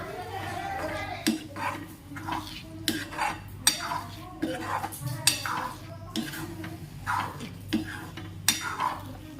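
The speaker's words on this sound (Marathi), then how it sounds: "आता हे पूर्ण मिक्स करून घेते मी आणि ऑटोमॅटिक आता हे ड्राय होत जाईल" Anda bhurji, scrambled eggs drying out in a pan as a spatula stirs and scrapes, with repeated metallic knocks at an irregular rhythm over a faint sizzle, close and clear.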